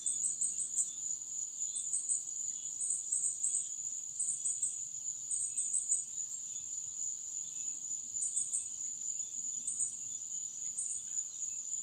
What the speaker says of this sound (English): Can y'all hear all them cicadas and the different birds?